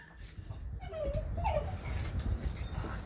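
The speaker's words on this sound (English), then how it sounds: "This dog showed up at my house a few weeks ago." A stray blue tick or blue heeler dog whimpers softly in a few brief high whines over steady low outdoor rumble, close by.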